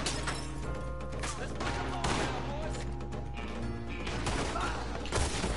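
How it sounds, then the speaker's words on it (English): Gunfire in the video game Red Dead Redemption 2, a dense fusillade of shots and crashes over continuous game noise, with a voice talking over it. "Oh, someone shot him."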